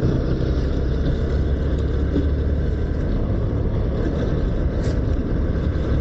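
A small 80cc or 100cc motorcycle engine strains steadily along a road in Savar, a continuous droning rumble mixed with traffic noise throughout.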